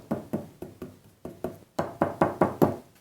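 Piano tuning pin rocking loose in a worn pinblock, tapped so it knocks about a dozen times in a steady rhythm, close and fairly loud, the last few knocks stronger and more resonant.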